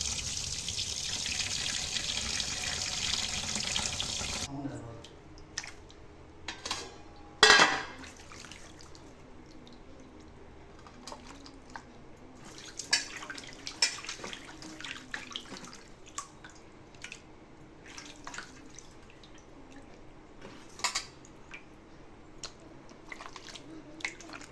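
Goat meat being washed by hand in a bowl of water, with wet squishing, splashing and dripping that follows a burst of running tap water at the start, close and fairly quiet, no talk.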